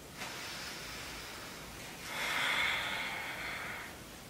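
Slow, deep yoga breaths: a soft inhale followed by a longer, louder airy exhale, close and quiet, heard alone.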